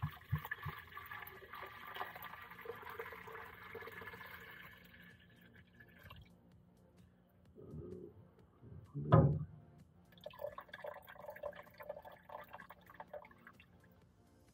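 Water being poured and measured out for tissue culture media, roughly 1200 milliliters, with a faint running splash early on, a brief louder gush and drip near the middle, then more quiet pouring.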